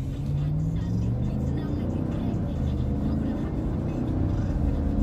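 A Chevy Tahoe RS with a 6.2 V8 accelerates on the road, its engine drone steady and strong, rising gradually in pitch under constant road and cabin noise.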